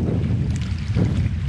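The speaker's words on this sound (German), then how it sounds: "Ist ein bisschen windiger geworden" Gusty wind buffeting a microphone outdoors, a steady low roaring rumble with slight surges, close and loud with no talking.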